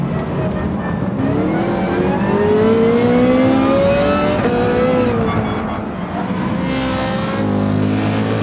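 Racing engines from a black Ferrari and an AMG in a DTM race at the Nürburgring in Gran Turismo 7, loud and close, with rising and falling engine tones as one car pulls past the other under steady engine roar.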